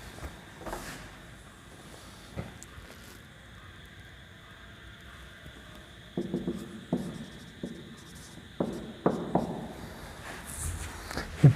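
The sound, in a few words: writing on a board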